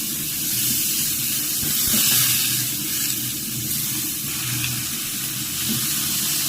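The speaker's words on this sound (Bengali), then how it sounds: "কষে যাওয়ার জন্য বরবটিগুলো দিয়ে দিব আস্তে আস্তে" Yardlong beans fry in a pan with a little water, producing a steady soft hiss over a low rumble, with a few faint knocks from stirring.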